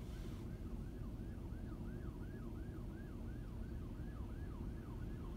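Fire truck sirens wail at a semi truck fire on a highway, a steady rising-and-falling siren sweep repeating without a break under a constant low roadside rumble, fairly distant.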